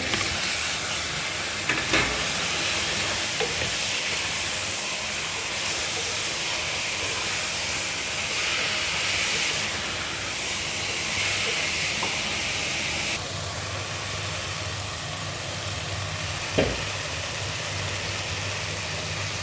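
Tomatoes tossed into a hot pan fry with a steady broad sizzling hiss, loud and continuous throughout, with a few brief clatters over a low background hum.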